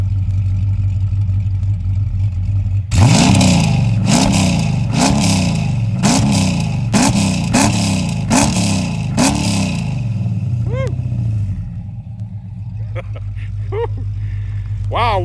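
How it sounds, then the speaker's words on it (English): A big muscle car engine, a Dodge SRT 392 or Hellcat, idles, then revs hard in about eight rhythmic bursts, each rising and falling, before settling back to a rumbling idle, measured at 117.2 decibels. "now we're going to give it some revs"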